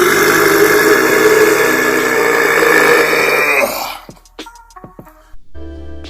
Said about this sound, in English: Here we have a very impressive burp.